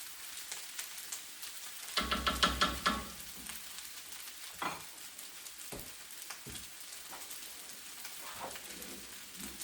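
Scallop fried rice frying in a pan gives a steady soft sizzle with a louder burst of crackling and stirring near the start, then quieter hissing broken by a few scraping clinks, with no voices.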